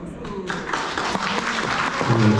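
A crowd at a wedding ceremony claps steadily after the officiant's address, with voices speaking over the applause.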